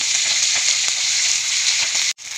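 Fenugreek (methi) leaves hitting hot oil in a pan give a loud, steady broadband sizzle with faint crackles throughout, cutting off briefly near the end and then resuming.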